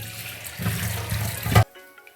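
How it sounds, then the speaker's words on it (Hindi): Tap water running briefly over lemongrass being washed in a bowl, a close splashing rush for about a second that then cuts off, leaving a faint background hum. "और इस लेमन ग्रास को मैं अच्छी तरह से धो लूँगी इस डोंगे पे।"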